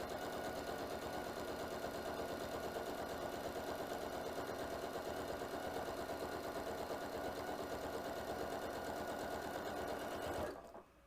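A sewing machine runs a long top stitch at a lengthened stitch setting, a fast, even mechanical whirr held steady for about ten seconds before stopping abruptly.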